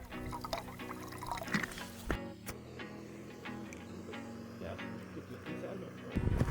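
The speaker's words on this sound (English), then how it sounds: "First thing we're going to do is add some water." Water poured into a pot for backcountry oatmeal, splashing and trickling with small drips and clunks, close and moderately quiet.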